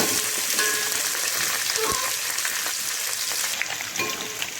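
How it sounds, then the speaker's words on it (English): Sliced onions fry in oil for a vegetable biryani, giving a dense, steady sizzle that continues throughout with faint stirring clicks, heard close with no talk. "Now we should fry these onions till golden brown in color."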